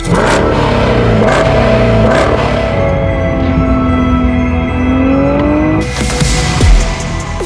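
An Audi RS7 engine revs hard on a dynamometer and holds high, climbing steadily before dropping off, loud and close with no talk.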